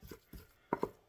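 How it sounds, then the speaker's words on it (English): Dark chocolate fudge is scraped out of a pot from the top down, giving a few soft dragging scrapes followed by three sharper, louder scraping strokes close by. "I will scrape my pot from the top down"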